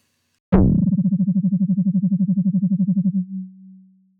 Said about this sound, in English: I want to hear signal coming out of this second VCO